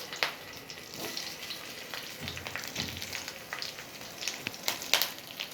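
Marinated plantain slices fry in hot oil with curry leaves, giving a steady soft sizzle with crackling pops and spits throughout.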